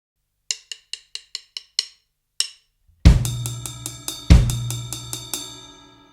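A quick run of bright ride cymbal hits, then deep bass drum thumps with ringing cymbal strokes over them in a triplet pattern, played alone.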